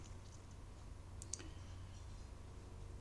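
A single faint computer mouse click, sharp and brief, over a low steady hum in a quiet room.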